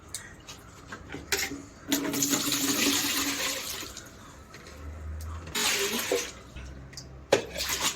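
Water drains and splashes from a fish basin in bursts of rushing, gurgling flow, close and fairly loud, with brief pauses and a few small knocks between surges.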